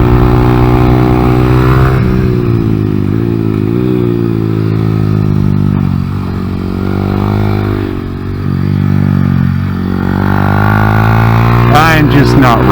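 A Honda Grom fitted with a Factory Pro shift pawl and spring upgrade laps a kart track, its engine droning loud and close with rising and falling pitch through gear changes.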